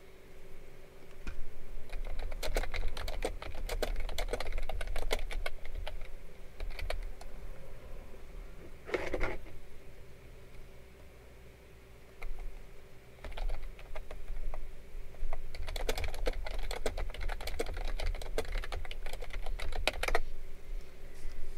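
Fingers type on a computer keyboard close to a streamer's microphone: long runs of rapid, light key clicks, a brief pause near the middle, then another steady burst.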